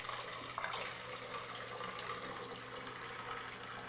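Vinegar, about three quarters of a cup, poured into a small plastic soda bottle, giving a steady close liquid pouring and splashing rush that runs continuously without talk.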